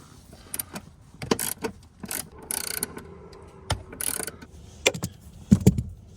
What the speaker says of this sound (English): I've got a deep socket on there right now because the post is pretty long.